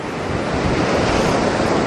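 Beach surf rolls in under strong wind buffeting the microphone, a loud continuous roar without breaks and no voices.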